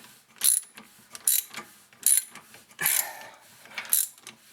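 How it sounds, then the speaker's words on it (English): A brake caliper piston on a 2004 Volkswagen Jetta TDI's rear brakes is spun back in with a tool, giving five or six separate ratcheting, clicking bursts at a fairly even pace, close and fairly quiet. "we actually spin the piston back in"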